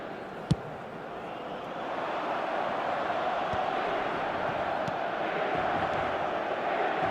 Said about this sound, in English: The crowd reaction tells you just how close that was.